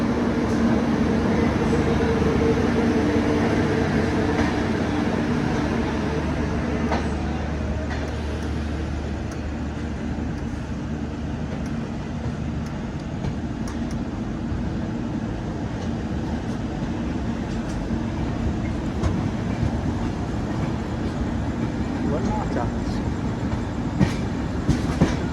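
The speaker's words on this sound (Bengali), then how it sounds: "একদম রাইট টাইমে শিয়ালদা থেকে আমাদের ট্রেন ছেড়ে দিল।" A passenger train departing Sealdah station and running, heard from inside as a continuous low rumble with rattling and occasional clicks of wheels over rail joints.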